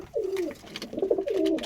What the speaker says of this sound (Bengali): এই যে একটা মাদি কবুতর।